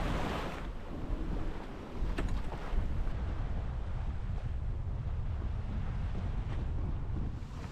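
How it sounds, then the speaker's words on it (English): Strong wind buffets the microphone on a sailing boat at sea between Orkney and Shetland, a loud, continuous roaring rush mixed with water and surf noise, with no voices. "The wind seems to have settled down a little bit"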